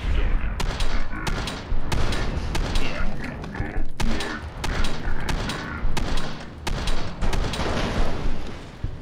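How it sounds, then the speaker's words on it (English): Repeated gunshots in Fallout: New Vegas, played with the Folly of the Old World mod, crack out in uneven bursts across the stretch, loud and close, with some dull thumps mixed in and no voices. "So we will see how much damage these guns do."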